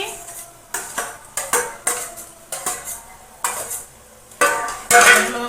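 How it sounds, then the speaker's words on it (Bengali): Fish heads being stirred into taro leaves in a metal pot, with a steady series of close scraping and clinking utensil strokes against the pot, roughly one every half second, a faint sizzle beneath. "ভালো করে মাথাগুলো মিশিয়ে নেব কচু শাকের সঙ্গে"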